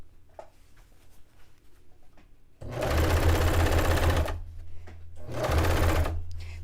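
A serger sewing machine stitches fabric in two loud, close whirring runs, each a couple of seconds long, with a quiet gap between them.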